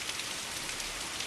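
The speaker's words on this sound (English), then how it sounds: "It's still raining" Steady rain falling outside, an even broadband hiss of drops on surfaces, continuous and fairly close with no talk over it.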